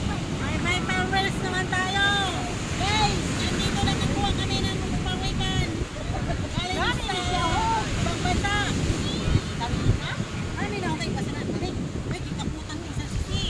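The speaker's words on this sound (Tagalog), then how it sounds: "kasi ang laki kasi ng alon" Large ocean waves rolling onto a beach, a steady broadband wash with strong wind buffeting the microphone, while several people talk loudly over it throughout.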